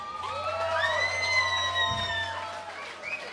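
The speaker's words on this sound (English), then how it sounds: "applause, come on." A live gig crowd cheers and whoops with scattered clapping, rising voice calls over a low steady hum, fairly quiet overall.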